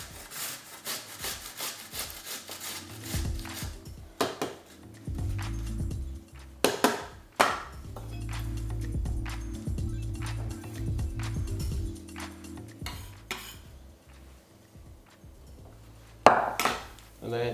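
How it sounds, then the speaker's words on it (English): Carrots being grated into long strands for a fried chicken sandwich, a close, rhythmic rasping with repeated scraping strokes that pause now and then before resuming. "So I'm just going to grate the carrots."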